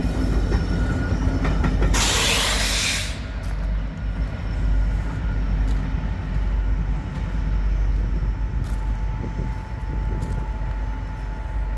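An empty BNSF coal train of 156 cars, led by SD70ACe locomotives with a distributed power unit, passes at Callao, Missouri, with loud continuous rumbling wheel noise, a brief burst of hiss near the start and intermittent squeals.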